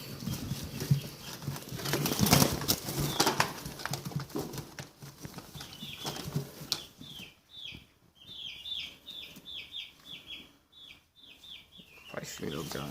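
Large pigeons flap their wings and coo, with a rustling flurry of wings early on and then a run of repeated short coos, close by with background noise.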